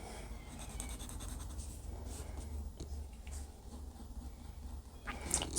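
Fountain pen laying down wet ink on paper, a soft continuous scratchy rub with brief light strokes, faint and close, no talking.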